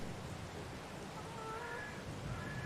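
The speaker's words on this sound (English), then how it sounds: "Rainy 1st of April." Steady rain in the farming game Farm Simulator 22, an even hiss of falling drops over a soft low rumble with no talk.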